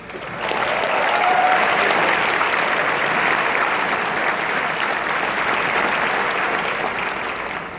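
Audience applause for a cheerleading team that has won a national title, presented at a university event; sustained loud clapping from a large crowd, steady throughout and heard alone without talk.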